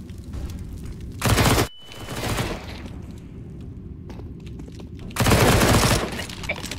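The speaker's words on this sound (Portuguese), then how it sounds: "Throwing flashbang." A flashbang grenade bursting amid gunfire in an online shooter game, loud blasts of noise around two seconds and again near five, separated by quieter rattling action, with no voices.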